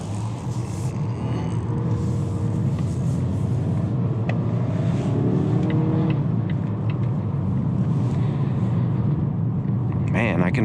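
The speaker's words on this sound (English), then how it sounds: "I guess I'll go ahead and floor it" Steady four-cylinder engine rumble and road noise from a 2019 Volvo S60 T5 accelerating hard at full throttle, building under a voice, fairly loud and continuous throughout.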